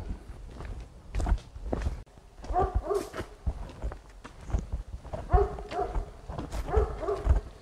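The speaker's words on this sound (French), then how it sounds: "Là on s'est fait repérer par un chien de ferme" A farm dog barks in a string of sharp, fairly close barks spread across the stretch, mixed with footsteps on a rural path and no talking.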